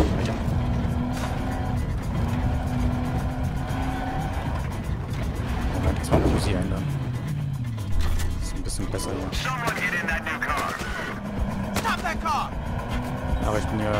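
Vehicle engine from Battlefield Hardline, revving and shifting pitch as the car drives through the Hotwire mode on the Dust Bowl desert map, loud and continuous with game effects and a player talking over it.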